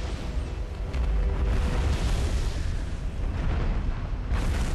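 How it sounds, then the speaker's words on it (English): A big explosion in the strategy game Supreme Commander 2, a deep, rumbling blast that swells and roars for several seconds, heavy in the low end, with a brighter burst near the end. "And this is a big explosion."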